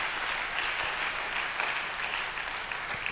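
A church congregation applauding, steady dense clapping throughout at an even level, filling the hall with no speech over it.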